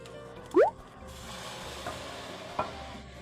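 Carrots, celery and chicken are stirred in a pot for a homemade soup, giving soft, faint stirring and sizzling under a low room hum, with a brief rising whistle-like tone early on and a small clink near the end.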